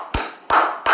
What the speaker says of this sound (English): clap it up for Dub